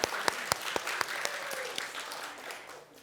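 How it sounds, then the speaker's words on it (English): A small round of applause for guests at an evening book lecture, steady clapping from a modest audience with a few sharp individual claps standing out, lasting about three seconds before tapering off. "A small round of applause for them."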